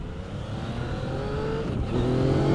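Yamaha XSR900 motorcycle engine pulling hard through a gap in traffic, in A riding mode: a close, continuous growl rising steadily in pitch, with a brief shift near the end before climbing again.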